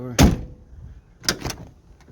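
A door on a 1990 Ford E250 Coachman campervan shuts with a loud, close thud, followed about a second later by a second, softer pair of knocks.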